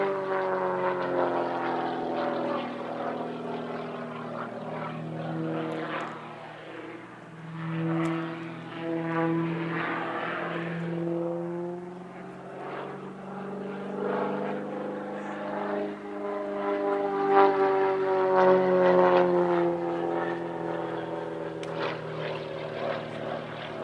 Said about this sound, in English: The final day of the Midlands Air Festival featured a display of unlimited aerobatics by Chris Bearcat in his Extra 300S.